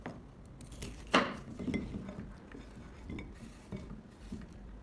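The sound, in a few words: knife slicing peppers into small pieces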